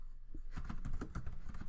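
Fingers tap out a short annotation on a computer keyboard, a quick run of close, crisp key clicks with no talking.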